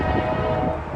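Norfolk Southern's northbound 19W manifest freight, led by an AC44C6M and an SD70A, rumbles past with steady low engine drone, a sustained tonal hum and rail noise, loud and continuous throughout.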